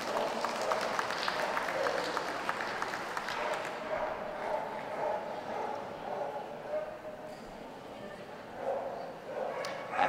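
Audience applause at the working group judging of the City of Birmingham Dog Show 2016, a steady dense clapping that fills the hall throughout, with a dog barking and some crowd chatter mixed in.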